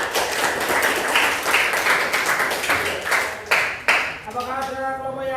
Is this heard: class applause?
yes